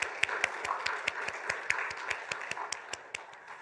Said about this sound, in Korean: 우리 뜨거운 감동을 하나님께 다시 돌려드리는 영광의 박수 돌려드리겠습니다